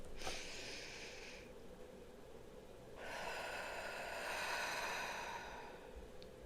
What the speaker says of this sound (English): Let's take one deep breath together.